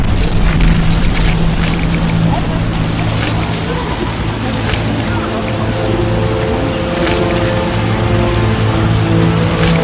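Steady, heavy rain hissing across the whole scene with a low rumbling hum underneath, continuous and dense without a break, in a video game.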